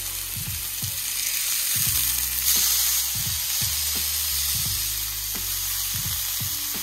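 Meat frying in a large pan sizzles steadily, with repeated low thumps and scraping from stirring or turning the pieces at a regular pace close by.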